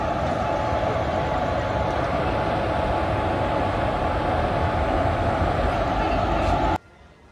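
Loud, continuous rumbling and clatter inside a moving Maveli Express general-class carriage, steady throughout before cutting off abruptly near the end.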